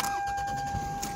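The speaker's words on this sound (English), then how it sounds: "so I'm going to start the car." Car engine cranking and catching in the driveway of a home, a steady broadband rumble with a faint tonal whine running through the short stretch, no voices over it.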